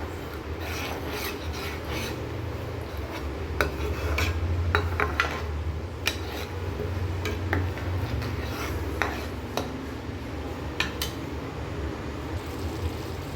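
Chole masala is sautéed and stirred in a pan, a spoon scraping and rasping against the metal in steady, repeated strokes with a low background hum.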